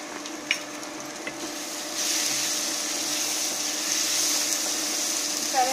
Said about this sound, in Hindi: सारे मसालों को मिक्स करेंगे।